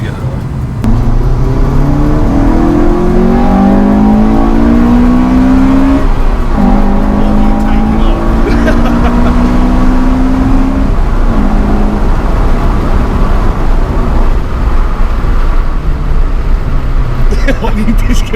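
Honda Civic Type R FN2 fitted with a DIY intake pulling hard in second gear, the engine note rising steadily through the revs with a shift partway through, loud and continuous.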